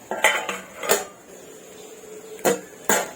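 A metal lid clanks onto a pan of vegetable curry (cowpea bhaji) amid several sharp utensil clinks, with a quiet pause between the bursts and no talking.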